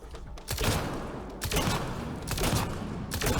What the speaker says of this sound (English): He's throwing those mad grenades at me again.